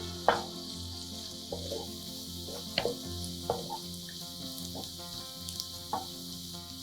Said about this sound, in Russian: Обжариваем грибы с луком на среднем огне.